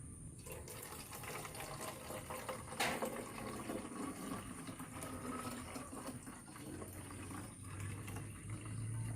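Water being poured into a container to dilute liquid organic fertilizer, a steady, soft splashing and trickling wash running throughout at moderate distance with no voices.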